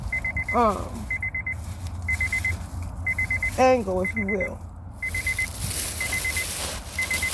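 Repeated electronic beeps sound in a steady pulsing pattern throughout, under someone talking over a low rumbling background.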